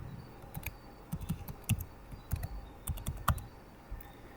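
Rapid, uneven clicks of fingers typing a password on a computer keyboard, sharp close keystrokes in short bursts with brief pauses, no voices.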